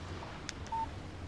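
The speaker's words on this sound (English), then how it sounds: "Text message from Barry." A phone text message alert in the Alan Wake video game, a brief electronic tone pair followed by a short thin beep, faint over a low background hum.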